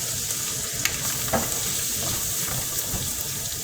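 Sauerkraut fries and browns in a pot for sauerkraut soup, a steady close sizzle with a few light scraping stirs and no talking.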